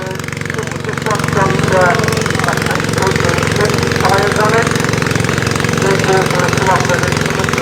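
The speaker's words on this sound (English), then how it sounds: "This show even has tractor pulling with what looks like a lawnmower." A small lawnmower engine in a tractor-pulling contest at a country fair in Laughton, East Sussex, roars loudly and steadily under strain, with a constant rattling drone and faint voices underneath.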